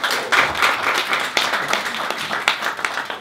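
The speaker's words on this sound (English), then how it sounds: "isn't that worth an applause?" Scattered applause at a Cannes film festival press conference, a modest group clapping unevenly with individual claps audible in an irregular, moderately loud patter.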